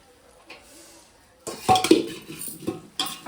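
Tamarind rice (pulihora) being mixed in a metal cooking vessel after tempering, with a soft knock, then a burst of scraping, clinking utensil strokes against the pot, close and moderately loud.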